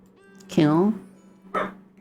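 A dog in a game gives two sharp barks about a second apart, the first longer and whining in pitch, the second shorter, over a steady low hum.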